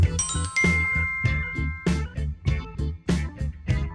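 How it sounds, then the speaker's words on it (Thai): A fishing rod bite alarm bell gives a rapid, bright tinkling of small metal bells, jingling in quick irregular bursts with clear ringing tones, close and fairly loud. "กระดิ่งตกปลาเป็นอุปกรณ์แจ้งเตือนเมื่อปลากินเหยื่อ"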